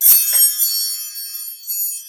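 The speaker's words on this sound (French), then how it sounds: "super carillon. Fait avec des clés à molette" Combination wrenches struck to make a chime ring out with two quick metallic strikes, then a bright, sustained shimmering tone that slowly fades, close and clear with no talking.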